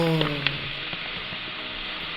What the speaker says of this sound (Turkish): Jelibonun eremiş eriyen sesi bak cız